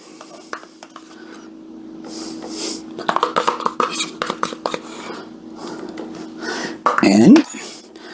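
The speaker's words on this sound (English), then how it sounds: "And give it a stir." Sour cream being stirred into a cheesy potato casserole mixture in a bowl: a run of scraping, clinking utensil strokes against the dish, moderately loud, under a speaking voice.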